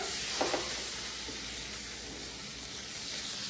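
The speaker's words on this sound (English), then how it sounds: "Okay, so our pan is nice and hot. I have added the salmon in here." Salmon and shrimp sizzle in a hot pan, a soft, steady frying hiss close by with a couple of faint crackles near the start.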